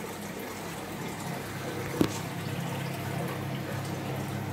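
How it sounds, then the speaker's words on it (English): Water pours through fish room plumbing into an aquarium sump, making a constant rushing, gurgling flow with one brief knock midway. Nobody talks. "And as you can see, water's going into the sump."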